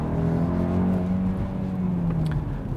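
A 2021 Kia Optima's 1.6-liter, 180-horsepower turbo engine pulls steadily during a night drive, a smooth, droning hum heard from inside the cabin that rises slightly in pitch.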